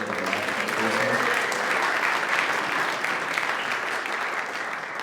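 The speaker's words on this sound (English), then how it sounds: "Give them a round of applause" A round of audience applause at a brass band evening thanking those who provided supper, a dense, even wash of clapping, close and sustained throughout, with a voice over the first moments.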